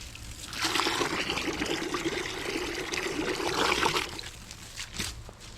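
Water runs from a hose or tap into a bucket for soaking a monofilament cast net, a steady loud splashing trickle for about three seconds that then tapers off. There is no talk.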